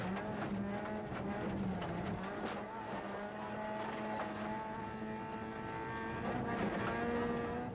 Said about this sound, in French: Là, on retourne à bord de la voiture de David Legault.